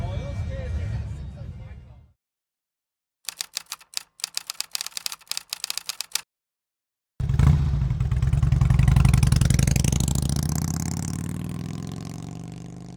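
Motorcycles roll along on a cross-country group ride, a broad engine drone swelling and holding with a rising whine, after a choppy stretch of rapid clicking bursts separated by silent gaps.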